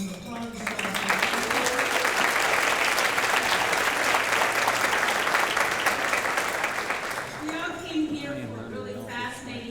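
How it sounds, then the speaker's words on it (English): A roomful of people applaud a panel at a business gathering, with a loud, even burst of clapping for about seven seconds before it fades and voices take over. "Please give our panel a round of applause."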